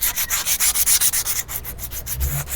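Sandpaper rubs back and forth over wood in quick, even strokes, loud and close, with no voices.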